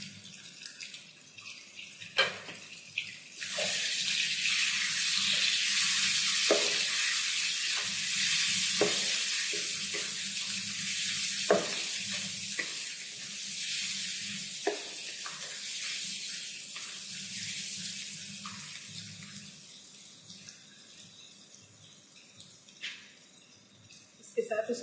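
Tomatoes and green chillies fry in a pan for Punjabi-style fried urad daal, a broad steady sizzle with scattered stirring clicks and scrapes, close and continuous, while someone talks over it.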